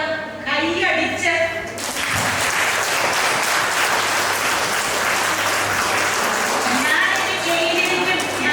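An audience at a college batch reunion breaks into loud, sustained applause after a speaker's remark, dense clapping filling the room with voices around it.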